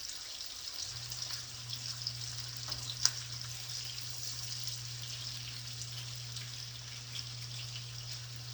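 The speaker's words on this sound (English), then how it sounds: "So we're flipping our bacon back and forth." Strips of bacon fry in a pan in a home kitchen: a soft, steady sizzle over a low constant hum, with one small clink near the middle. No voices.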